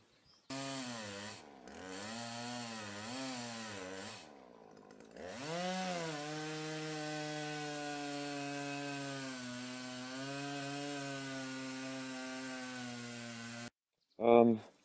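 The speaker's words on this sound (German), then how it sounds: "dann sägen wir den mal auf." A saw, most likely a chainsaw, cuts open a yew branch for a Stone Age bow. A steady droning engine tone rises and wavers in pitch across the cut, stops briefly, then resumes.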